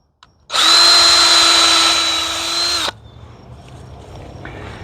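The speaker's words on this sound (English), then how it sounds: "sink a screw right here" A power drill drives a screw into a 2x4 for deer fence construction, a single loud steady whir of about two and a half seconds that slows slightly before stopping abruptly.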